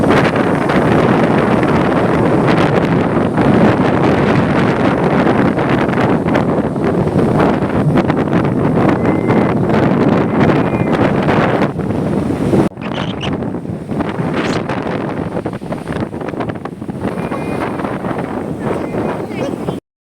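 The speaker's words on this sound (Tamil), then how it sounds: "அந்த காற்று சவுண்டு போடுறேன்" Strong, steady cyclone wind at Pattinapakkam beach, Chennai, during Cyclone Fengal roars and buffets the microphone throughout, with a broad rushing noise and a slight drop in intensity partway through.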